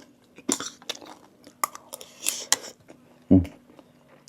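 Someone chews crispy food in close-up, producing sharp irregular crunches and softer mouth sounds with pauses in between, and one heavier bite near the end.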